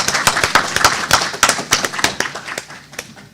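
A room full of people at an annual homeowners' meeting claps in a dense, steady round of applause that fades near the end.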